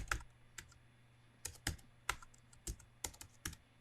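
Typing on a computer keyboard, a sparse, irregular scatter of close, crisp key clicks at low volume, with uneven pauses between strokes.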